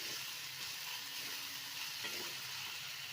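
Spices tossed with garam masala in a hot pan give a steady, close sizzle, with soft stirring scrapes running through it and no talking.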